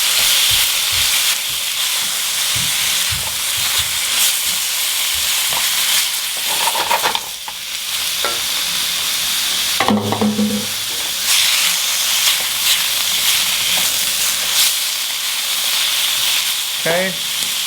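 Japanese fried rice sizzling loudly in a pan, a dense continuous hiss with steam, broken by scraping stirring strokes and a few brief knocks close by.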